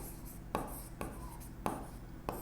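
Chalk or marker strokes on a board during a maths lecture, several brief scratchy rubs coming in an uneven rhythm, close and faint, with no talking.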